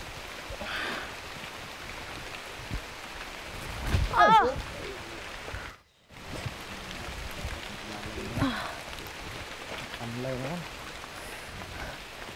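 Rain falls steadily near a cluster of small caves, a dense close hiss across the whole stretch, with occasional brief voices and movement sounds breaking through the wash.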